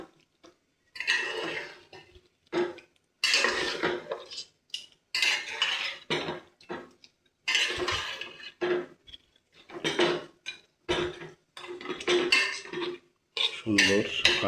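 A spoon stirs beef curry in a metal pot, making intermittent bursts of scraping and clinking against the pot, close up, separated by short quiet pauses.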